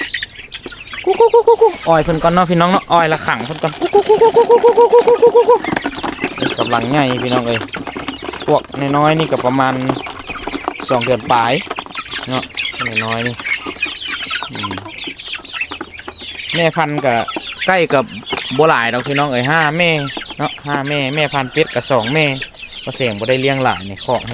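Farmyard chickens cluck and squawk in repeated bursts during a rural Lao morning, close and lively, while people talk nearby and one voice calls to the birds with rapid repeated syllables.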